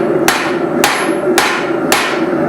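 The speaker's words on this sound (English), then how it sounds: "as I hammer the drift in" Four loud, evenly spaced hammer blows ring out as a steel drift is driven into a forged 8 oz cross peen hammer head resting in a swage block, each strike sharp and metallic over a steady shop hum.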